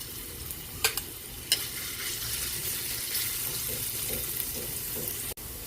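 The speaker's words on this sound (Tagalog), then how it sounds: "Magigisa na po tayo para sa ating ginisang ampalaya" Garlic sautés in a modest amount of cooking oil for ginisang ampalaya, a soft continuous sizzle broken by a few sharp clinks of a utensil against the pan, with no voices.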